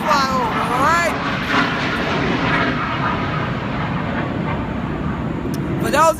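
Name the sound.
military jets flying over the ocean front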